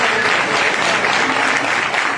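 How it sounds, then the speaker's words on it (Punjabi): A church congregation claps loudly and continuously, a dense close wash of many hands sustained for a couple of seconds, with no voices over it. "ਡਬਲ ਤਾਲੀਆਂ ਵਜਾਓ"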